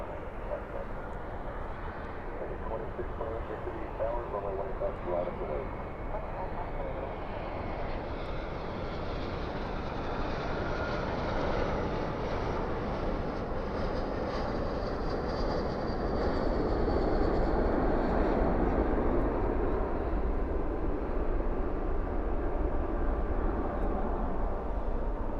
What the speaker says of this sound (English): Spoilers up, reversers out on that A321.